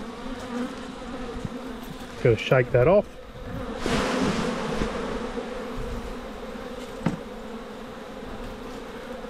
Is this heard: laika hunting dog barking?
no